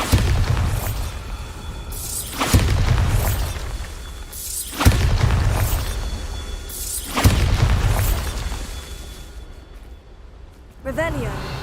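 Bombarda blasting spells from a video game go off as four heavy booming explosions at regular intervals, each with a rumbling tail and shattering debris, under a talking voice.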